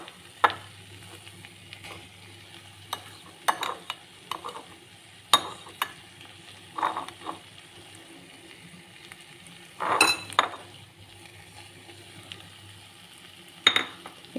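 A spoon stirs smashed potato into a thick, dry keema mixture for cutlets, giving scattered scraping and clinking strokes against the pan over a low steady hum, with no talk.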